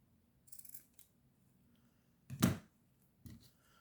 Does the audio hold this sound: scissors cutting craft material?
yes